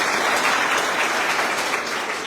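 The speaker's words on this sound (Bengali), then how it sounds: "সবাই একটু করতালি দেব।" An audience at a program bursts into steady, loud applause, a dense wash of clapping that holds evenly throughout and fades slightly at the end.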